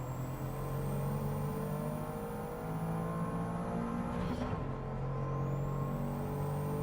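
A Mazda MX-5 lapping in Gran Turismo 7 gives a steady, loud engine drone with layered harmonic tones, a brief gear-change dip midway, then continued even running with no voices.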